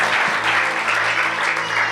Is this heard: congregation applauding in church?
yes